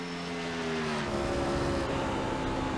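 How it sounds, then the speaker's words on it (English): A truck engine in the Fast Track Sims Hardline Truck Series racing sim at Homestead drones loudly at high revs, its pitch rising slightly as it pulls hard, steady and close throughout. "I gotta hear his car engine."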